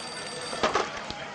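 A telephone rings during a scene of a Turkish TV series, a short electronic ring with a couple of brief bursts over faint room background.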